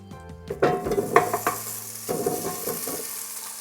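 Potatoes drop into a hot air fryer basket, a short run of light clattering, rattling knocks and faint sizzling that fades after a few seconds.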